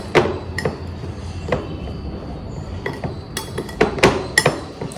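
Spoon clinking and scraping against a bowl while olive oil dressing is stirred for an avocado toast salad, sharp irregular taps spread across the stretch with quieter scraping in between.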